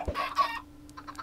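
Chickens cluck in a Minecraft-style block game, a few short close clucks and squawks in quick succession, then fainter clucks trailing off, with no talk over them.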